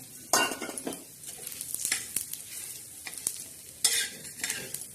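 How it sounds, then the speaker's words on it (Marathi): Dried coconut roasting in a little oil in a pan, with a spoon scraping and stirring in irregular bursts over a soft, steady sizzle, close and fairly quiet, with no voices. "खोबरं भाजत आहोत"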